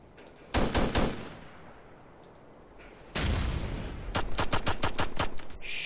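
Gunfire in Ghost Recon Future Soldier comes as loud, close rapid bursts of automatic shots, one short burst, a pause, then a longer volley of sharp cracks over a low rumble.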